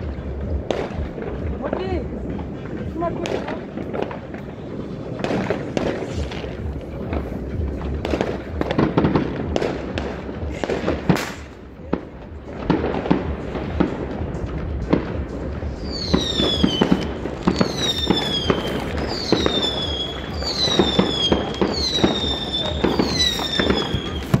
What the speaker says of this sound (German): Hast du noch einen Knallfrosch?